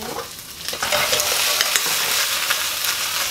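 Bok choy with garlic and green onion being stir-fried in a hot pan, a steady bright sizzle that swells after the first second and holds loud and continuous, with scraping stir strokes and no voices.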